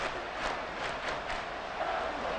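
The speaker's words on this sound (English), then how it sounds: "Well, this crowd into it now." Stadium crowd in the Madden 24 football game, Cowboys versus Dolphins, gives a steady, broad roar of cheering with faint rhythmic swells, moderately loud and continuous throughout.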